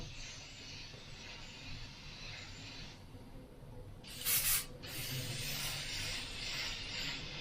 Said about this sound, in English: it's getting the paint down, it's doing what an airbrush should do